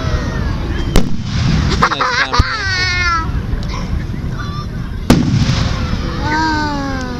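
Fireworks bursting at a town's first Fourth of July fireworks show, several sharp loud bangs with crackle and whistling streamers from middle distance, amid crowd chatter and a voice.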